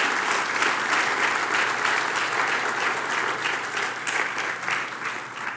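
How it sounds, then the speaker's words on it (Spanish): A church congregation applauds during a Bible sermon, with sustained, dense clapping filling the room for over five seconds and slowly tapering toward the end. "¿Les das un aplauso al Señor por eso?"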